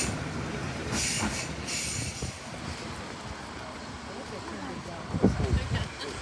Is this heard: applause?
no